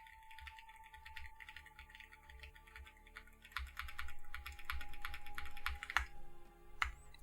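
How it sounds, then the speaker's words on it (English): Fast, steady typing on a mechanical computer keyboard, with bright clicky keystrokes up close, a few sharper clacks near the end, and a faint tone humming underneath. "I literally can't get over typing. I love this keyboard so much, dude."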